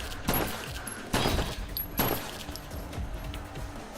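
Gunfire in the Wicked Seed demo video game, several sharp bursts of shots at irregular intervals with lighter clinks between them, fairly close and loud.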